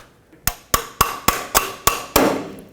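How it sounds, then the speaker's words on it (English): Seven sharp metallic hammer blows, evenly spaced and close, drive a 12 socket onto a rusted exhaust manifold bolt on a 2005-2010 Pontiac G6, each strike ringing briefly before the next. "I'm going to use a 12, and I'm going to hammer it on a little bit to make sure that it actually goes on."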